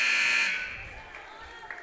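End-of-half buzzer at a girls' high school basketball game sounds as a loud, steady electronic tone that fades after about half a second into gym crowd noise.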